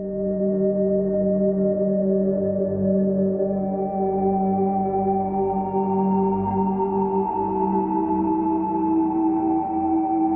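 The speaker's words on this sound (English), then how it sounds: "The two sounds I used for this were a pad that sounds like this" A sustained synth pad from the Surge plugin holds steady stacked tones for about ten seconds, smooth and even, with brighter upper harmonics creeping in partway through and no voices.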